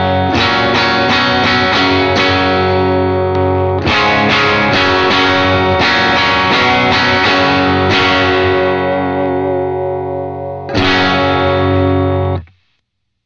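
An electric guitar runs through stacked Lightspeed and Superbolt overdrive pedals, playing loud, driven chord stabs in rhythmic bursts with short breaks, then a final chord that rings out and cuts off.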